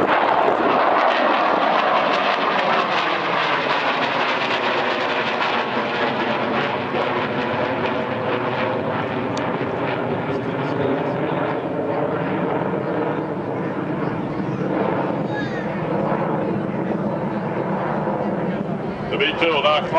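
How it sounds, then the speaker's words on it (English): A B-2 Spirit stealth bomber passes over the Winston Salem airshow, a loud, sustained jet roar that shifts slowly in pitch as it goes by overhead and heads away. "The B-2 will now climb out and head to its next waypoint on this multi-hour mission"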